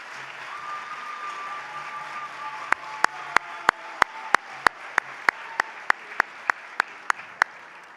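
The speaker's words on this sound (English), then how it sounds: "give yourselves a round of applause." Young medal recipients at a Good Citizen Day dinner program applaud themselves, a soft wash of clapping joined by a run of sharp, evenly spaced loud claps near the microphone.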